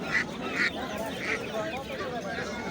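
Several domestic ducks quack in short bursts, fairly close, amid a busy background murmur of voices at a poultry sale.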